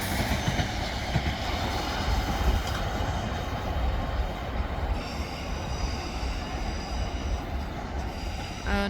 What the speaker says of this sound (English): And departing here is our class 450 working in service to London Waterloo from Basingstoke.